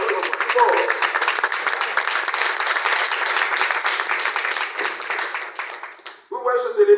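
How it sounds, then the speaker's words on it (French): Audience applause at a talk, honoring a doctor, runs as steady, dense clapping for about six seconds before dying away and giving way to a speaking voice. "vous allez encore applaudir au docteur Victor"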